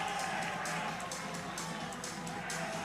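A stadium crowd at Bishan Stadium cheering an Indonesian goal in a football match, a steady distant roar of many voices with a commentator talking over it.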